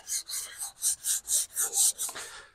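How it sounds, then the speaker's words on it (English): Sandpaper of 320 grit rubs lightly by hand over a polyurethane coat in eight quick, even back-and-forth strokes, a close, soft, rhythmic rasping with short pauses between passes. "let's give it a quick sand with some 320 sandpaper"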